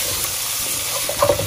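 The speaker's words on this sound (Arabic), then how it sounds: "دابا هي الكفته دابا غادي تخلط مع هذاك البصله" Kofta frying with onion in a nearly oil-free pan, giving a steady close sizzle with light stirring scrapes near the end.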